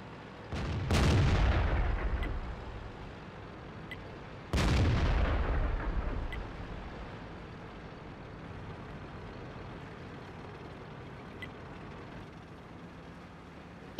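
Two booming tank cannon shots in World of Tanks, each a sharp loud blast with a long rumbling decay, spaced a few seconds apart, followed by quieter engine hum and no talking.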